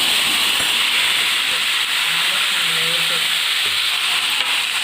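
Hot oil tempering of fenugreek and mustard seeds poured into a drumstick tamarind curry, a loud, steady hissing sizzle that holds unbroken for several seconds.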